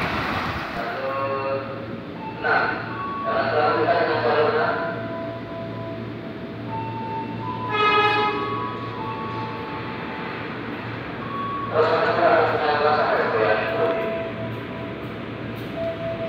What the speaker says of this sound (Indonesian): kereta api Tegal Bahari menggunakan lokomotif CC206 relasi stasiun Tegal